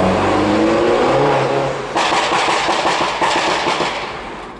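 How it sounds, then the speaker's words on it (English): A Mini's exhaust revs hard inside a tunnel, the loud echoing roar rising in pitch and then cracking into sharp bursts as the engine climbs again before fading slightly. "We have the exhaust appreciation tunnel."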